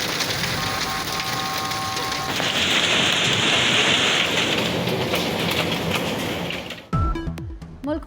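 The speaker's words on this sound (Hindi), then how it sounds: "मलका कोहसार मरी में 2 रोज से बारिश और बर्फबारी का सिलसिला जारी।" Rain falling in the hill town of Murree, a steady hiss of rain on surfaces, continuous and fairly loud, that cuts off abruptly near the end.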